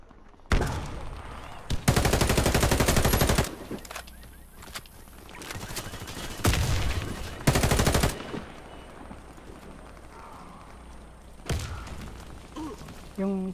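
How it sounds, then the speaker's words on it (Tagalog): Submachine gun fire in the video game Warface: several loud, sustained automatic bursts separated by short pauses, with quieter game noise and a few single shots in between. "Nabitin niya natin yung baril niya. Nakas eh. Submachine gun eh."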